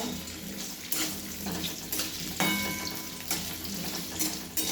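Sabudana khichdi with potatoes is stirred and steamed in a pan, giving a dense, continuous hiss with periodic louder surges as the spoon moves through it.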